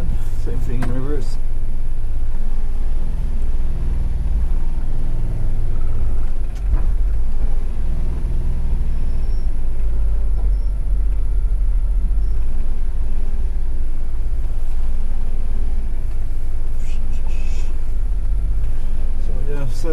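1990 Suzuki Carry 550cc kei truck with 5-speed and four-wheel drive, reversing with axle lock engaged; a steady low engine drone and rumble fills the cabin, loud and close, while a person talks over it.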